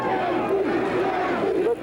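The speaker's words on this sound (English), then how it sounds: "the crowd is really getting into it" Spectators at the Juan Galvan vs Chris Linson Jr. pro boxing match cheer and yell steadily as the final round gets underway, a sustained crowd roar with a voice talking over it.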